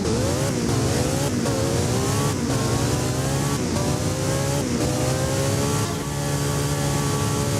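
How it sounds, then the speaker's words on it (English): A Porsche 918 engine in the Driving Empire game revs hard through repeated gear changes, a loud, continuous rising whine that drops and climbs again with each shift. "the best sounding car from Porsche easily has to be the 918"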